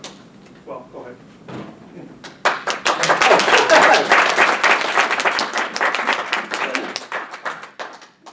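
Audience applause after a talk breaks out following scattered voices, a dense burst of clapping that gradually thins and tapers off, with people speaking around it.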